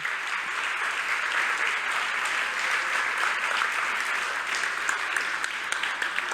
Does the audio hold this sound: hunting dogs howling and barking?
no